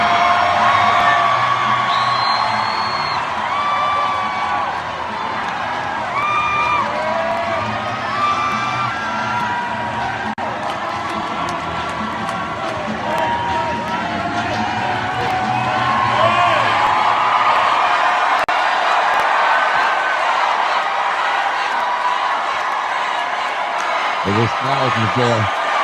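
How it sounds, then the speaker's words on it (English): A large crowd at a political rally keeps up a dense, loud roar of cheers, whoops and yells with no break, and talk from nearby voices runs throughout. "Look at that crowd. Look at that crowd."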